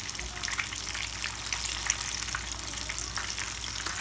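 Breaded chicken pieces frying in hot oil crackle and sizzle continuously at close range, a dense, even bubbling hiss with no voices over it.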